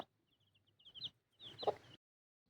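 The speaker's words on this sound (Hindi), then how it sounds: "एक किसान की देसी मुर्गी जो है अपने बच्चों के साथ आंगन में जो है इस तरह से घूम रही है।" A farmer's desi hen walking with her chicks in a courtyard gives soft, close clucks along with thin high peeps from the chicks, then a louder cluck burst before quiet.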